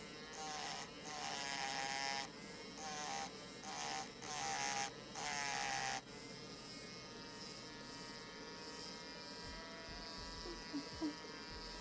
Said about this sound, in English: And I might Dremel it for now.